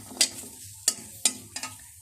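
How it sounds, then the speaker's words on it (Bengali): Chili, onion and garlic dry-roasting in a wok without oil, a faint crackle broken by four sharp scraping stirs of a spatula, close and quiet. "এখানে আমি মরিচ, পেঁয়াজ আর রসুন ভাজতে দিয়েছি কড়াইতে"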